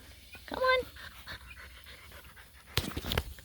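Small puppies pant softly and let out a few high, thin whimpers close by, with a brief louder burst of whining near the end amid quiet room sound.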